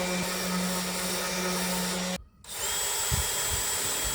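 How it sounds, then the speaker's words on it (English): A power drill whirs steadily drilling pilot holes in wood, cuts out briefly, then a few faint knocks and handling sounds follow. "More pilot holes."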